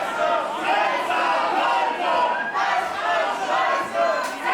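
A wrestling crowd at a No DQ mask-versus-title match between Senza Volto and Pascal Spalter roars and chants in support, a dense, steady wall of voices that swells in waves throughout.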